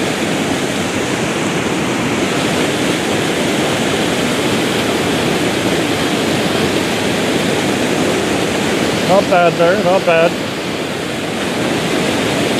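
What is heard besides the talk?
waterfall, rushing water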